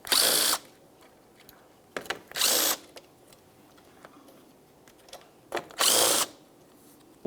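A power tool removes the grille mounting nuts on a 2006–2012 Ford Fusion, giving three short loud whirring bursts separated by quiet pauses, with faint clicks and handling noises in between.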